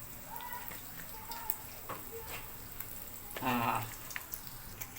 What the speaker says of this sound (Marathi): पॅन तापलाय मस्तपैकी तेल चक करायची पद्धत गरम झाले की नाही